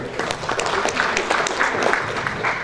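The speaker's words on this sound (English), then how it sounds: "Round of applause for this gentleman right here." A conference audience at a summit breaks into applause, dense, steady clapping from many hands filling the room close by.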